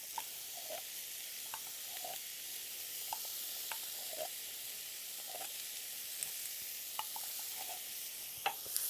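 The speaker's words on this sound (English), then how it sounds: "let that fry out a little bit with the onions" Tomato paste frying with onions in a pan gives a steady soft sizzle throughout, with faint scattered clicks and taps of stirring; no talking.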